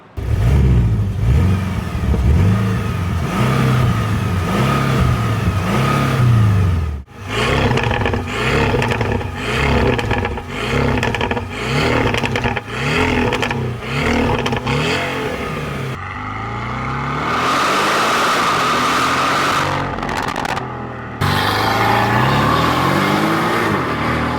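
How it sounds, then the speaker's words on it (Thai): Porsche Cayman 718 with a 2.0-litre boxer engine and SWC aftermarket muffler exhaust, revved repeatedly in loud close blips with a deep rasping note, followed by a sustained higher-pitched hold and further revs. "ท่อ SWC Muffer ท่อนอกตรงรุ่นโบอินนะครับซุ้มเสียงฟังเสียงกันก่อนดีกว่า"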